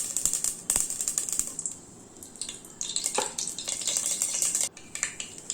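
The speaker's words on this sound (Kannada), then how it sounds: "ಸಾಸಿವೆ ಸಿಡಿದ ಮೇಲೆ ಸ್ವಲ್ಪ ಆಯಿಲ್ ಹಾಕಿ ಹೀಟ್ ಮಾಡೋಣ." Mustard seeds splutter and pop in hot oil for a Kannada-style tempering for puri usli (puffed rice dish), giving rapid, irregular crackling bursts that come close and fairly loud, with no talking.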